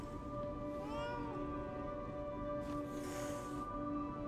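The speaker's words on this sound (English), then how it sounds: "The cat does not like Pinocchio." A cat in the video game Lies of P meows at the puppet Pinocchio, a drawn-out wavering cry over a steady droning game ambience, followed by a brief hissing burst.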